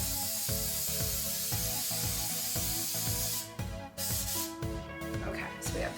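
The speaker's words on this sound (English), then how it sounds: "I need to spray the pan." Cooking spray hisses from a can onto a pan in a home kitchen while making Rice Krispie treats, a steady close spray lasting several seconds, then breaking into shorter bursts.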